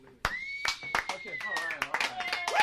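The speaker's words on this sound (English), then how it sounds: "I gave myself sarcastic clapping" Sparse, low-energy hand claps patter through a podcast recording, a handful of soft slaps mixed with people talking over them.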